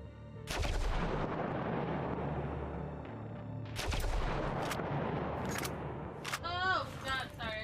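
In the survival horror game Vorax, a shotgun fires three heavy, booming blasts spaced a few seconds apart. Each blast rings out loud and close, and a brief vocal sound follows the last one.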